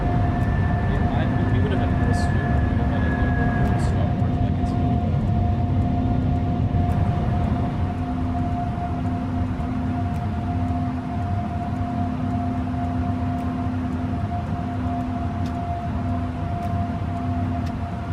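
Airbus A330 taking off in Microsoft Flight Simulator, a steady loud engine roar with sustained tonal whine running throughout, continuous and close under faint background noise.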